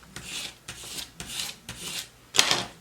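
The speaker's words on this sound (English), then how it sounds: "take something you can rub against that." A scraper rubs a vinyl decal down onto a mug in five close, rasping strokes, each a short scratchy sweep with brief pauses between, the last one loudest.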